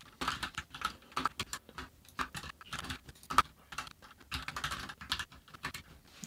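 Steady typing on a computer keyboard while writing Flutter code: rapid, irregular clusters of light key clicks with brief pauses, fairly quiet and close, no voices.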